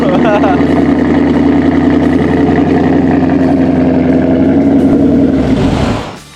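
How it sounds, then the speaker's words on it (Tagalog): A 2024 Ford Mustang with a 5.0 V8 idles after a remote start, its exhaust a steady, loud, deep burble held close by, then cut off at the end. "pakinggan muna natin tong Mustang. Super ganda yung kanyang exhaust. So, remote start lang natin."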